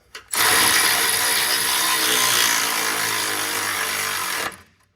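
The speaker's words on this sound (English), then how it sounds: "you should be able to just kind of turn it in with a regular little ratchet like this" A small ratchet turns a bolt on the transmission cooler line of a 2009-2014 Ford F-150 with the 6R80 six-speed transmission, giving a close, steady run of rapid clicks for about four seconds with no talking.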